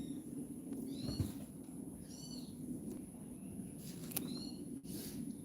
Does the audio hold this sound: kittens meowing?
yes